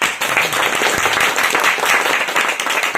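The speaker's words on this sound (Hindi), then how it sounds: "एक बार फिर से तालियां बजा लीजिए।" An audience claps steadily at a motivational talk, a dense, even wash of applause lasting the whole stretch without a break.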